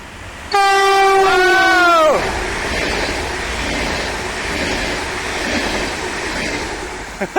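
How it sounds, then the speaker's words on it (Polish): A train near a bike route sounds a loud, close horn for about two seconds, then rumbles past steadily with wheels clattering on the rails until the end. "Jedzie pociąg z daleka."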